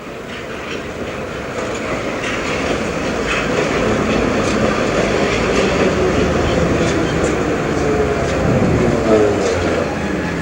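A Budapest metro line 2 train of Russian-built cars runs above ground on third-rail track, a steady loud rumble and rolling rail noise that swells gradually as it passes close by, with no talking.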